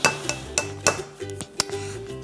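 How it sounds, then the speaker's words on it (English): A spatula scrapes around a half-cup measuring cup in a series of short, close clinks and scrapes at an uneven rhythm. "swipe the spatula all around the 1/2 cup"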